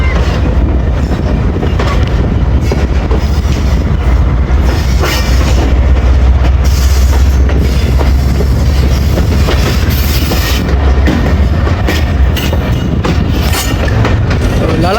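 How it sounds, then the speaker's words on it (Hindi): The 140 Down Sandal Express passenger train pulls out of Shahinabad station, a loud, steady rumble of wheels and carriages with rhythmic clickety-clack and occasional wheel squeal, heard up close throughout. "चलें जी शाहीनाबाद से डिपार्ट हो रही है हमारी 140 डाउन सांदल एक्सप्रेस।"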